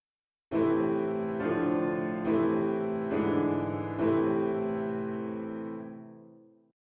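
A minor chord rings out, struck five times in an even, unhurried rhythm, then sustains and fades away. The tone is clear and no one speaks.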